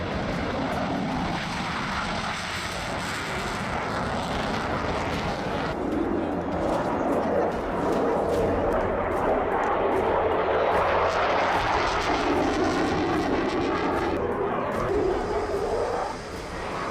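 Aircraft engine roar, taken to be fighter jets, fills the scene as a steady, loud drone that holds throughout and swells toward the middle before easing slightly near the end.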